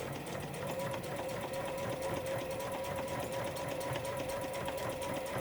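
A sewing machine runs steadily at an even, rapid pace, stitching fabric for a patchwork case that holds a 500 ml plastic bottle, with continuous mechanical hum and needle clatter and no pauses.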